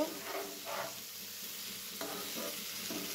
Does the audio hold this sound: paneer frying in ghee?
yes